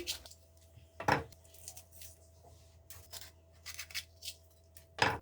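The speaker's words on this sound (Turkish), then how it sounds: "Şimdi biberlerimi doğruyorum. Çekirdeklerini çıkartıyorum." Peppers being cut with a knife and seeded make a quiet, close series of irregular crisp snips and clicks, spaced unevenly with a few louder cuts, with no one speaking.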